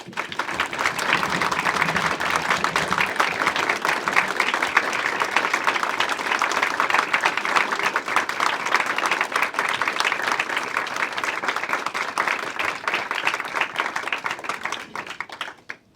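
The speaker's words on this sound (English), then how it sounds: "Can we give everyone a round of applause?" Sustained applause from an audience at a school board of education meeting, honoring student performers; dense, steady clapping fills the room for about fifteen seconds before cutting off abruptly.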